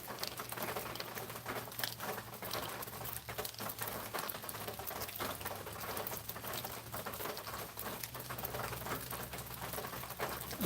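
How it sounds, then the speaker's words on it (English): Rain falls steadily on a gray day in Georgia, a dense, even patter of drops that continues without a break, moderately loud and close, with no one talking. "Y'all can watch and hear the rain."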